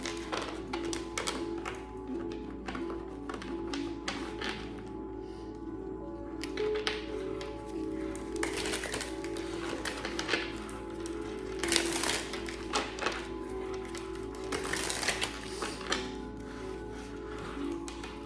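Tarot cards are shuffled in repeated quick papery riffles and taps, a dense irregular patter of card edges close to the listener, with a brief pause partway through.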